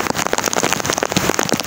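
Heavy storm rain pours in Karachi, dense drops pattering hard on surfaces in a loud, steady, close rush.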